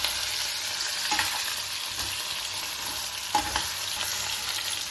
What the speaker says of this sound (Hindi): आलूओं को तब तक पकाना है जब तक इसके हल्का हल्का गोल्डन कलर आना शुरू हो जाएगा